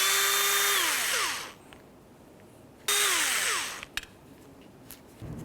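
A power tool backs out the top mounting bolts of a front window regulator from a 2004-2015 Nissan Titan, in two loud whirring bursts that wind down in pitch, with quieter handling noises between them.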